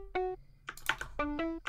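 Low band of a muted guitar sample from a stock Ableton pack, split from the highs and run through OTT compression: a few short pitched plucks with clicky percussive hits between them, quiet and dry with no talking.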